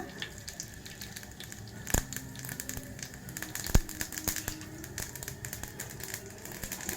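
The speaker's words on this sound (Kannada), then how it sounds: "ಒಂದಿಷ್ಟು ಸಾಸಿವೆ ಹಾಕೊಳ್ಳೋಣ ಎಣ್ಣೆ ಬಿಸಿ ಆಗಬೇಕಿತ್ತು ನಾನು ಹಾಕ್ಬಿಟ್ಟೆ ಕಾಯ್ತಿದ್ದಾನೆ ಸ್ವಲ್ಪ ಜೀರಿಗೆ ಹಾಕೊಳ್ಳೋಣ" Mustard seeds and cumin crackle in hot oil, a dense stream of small sharp pops and fizzing spits with a few louder cracks, steady and close throughout.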